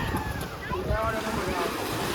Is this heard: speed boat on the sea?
yes